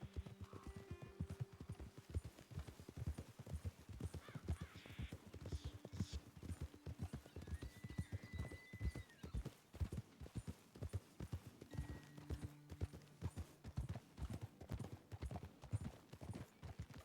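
Horse hooves clip-clop steadily on a trail in the Red Dead Redemption 2 game world as riders climb toward a vantage point, a continuous close rhythmic clatter with brief faint tonal game sounds over it.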